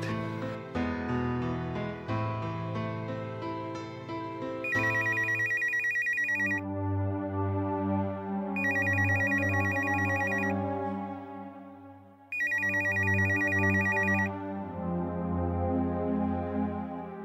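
A telephone rings in a home in three repeated bursts, each a bright electronic trill, over a bed of dramatic background music with no talking.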